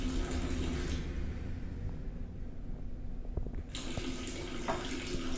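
An alkaline water ionizer dispenses water into a glass, a steady close pour with a faint hum that quiets midway and then resumes near the end.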